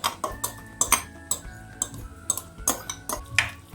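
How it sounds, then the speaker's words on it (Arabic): Metal utensil scraping and clinking against a pot or bowl while mashed cauliflower burger mixture is stirred and turned over, giving repeated rhythmic scrapes and knocks up close with no talking. "اقلب كله مع بعضه"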